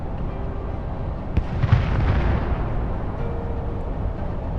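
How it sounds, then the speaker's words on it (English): A distant heavy artillery boom erupts midway on a battlefield, followed by a rolling rumble that slowly fades against a steady low background noise. "Ukrainian artillery joins the fight once again. Explosions tear up the ground."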